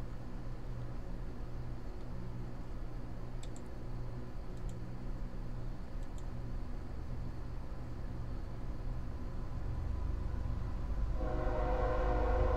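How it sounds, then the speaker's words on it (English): A passing train rumbles steadily with brief horn blasts in the middle, swelling louder toward the end as it draws nearer. "Shut up, train."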